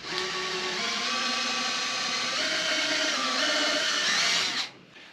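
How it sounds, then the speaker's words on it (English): A power drill bores through a foam yoga block, a loud, steady whirring whine held for about four and a half seconds before cutting off abruptly. "we're going to drill through the yoga block next"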